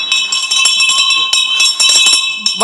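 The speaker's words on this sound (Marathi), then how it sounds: "अरे दुसरी बेल आत्ता देता याला काय अर्थ आहे?" A theatre interval bell rings continuously on a stage set, a bright sustained electric ringing with rapid clatter throughout.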